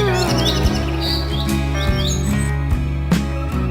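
A cartoon sparrow chirps repeatedly, quick high tweets and rising squeaks scattered over a looping musical background with light percussive taps.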